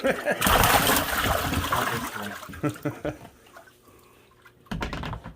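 A netted pike splashes and thrashes in water, loud sloshing bursts at the start, then intermittent splashes and drips before another burst near the end, with speech partly under it.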